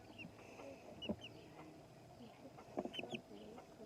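Pekin bantam chickens cluck softly nearby, scattered short calls and murmurs over a quiet outdoor background, faint and intermittent.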